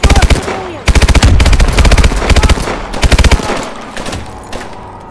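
Video game gunfire in Call of Duty: Advanced Warfare, loud rapid automatic bursts in several rattling volleys with brief gaps, close and dominant, with a voice briefly audible between shots.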